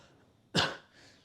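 A man gives a single sharp, close cough that fades quickly, followed by a faint breathy sound in an otherwise quiet room.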